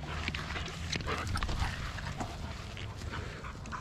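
Dogs, a Belgian Malinois and pit bull mixes, whimpering and panting outdoors, soft intermittent whines and breathy huffs close by, fairly quiet, with no talk.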